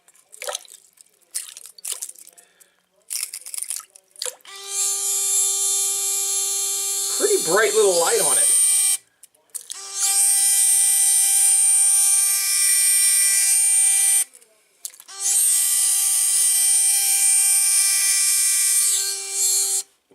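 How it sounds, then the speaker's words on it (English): A cheap Chinese electronic jerkbait fishing lure gives off a thin, steady electric buzz in three separate runs of several seconds each, with short pauses between them and someone speaking briefly during the first run. "Thing definitely does light up and vibrate a little bit."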